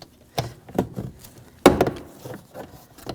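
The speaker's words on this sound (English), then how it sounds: "Just get underneath and just pry out. There's just push pins holding it in." A plastic trim tool pries push pins loose from the door panel of a BMW 328i, giving a few sharp clicks and snaps with one louder pop, close up and separated by short pauses.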